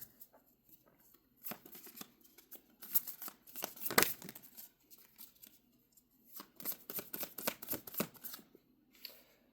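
Cards being shuffled up close in several quick papery bursts, with quiet gaps between the riffles.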